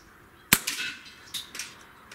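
A Diana Airbug .22 caliber CO2 pistol fires one sharp, close pop, followed by faint, distant impact sounds as the pellet strikes a target outdoors.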